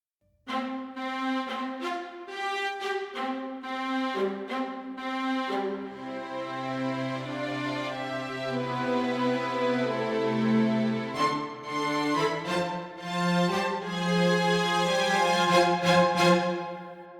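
Cello line from a song playing alone in a steady, flowing run of bowed notes, moderately loud and close, with no voices.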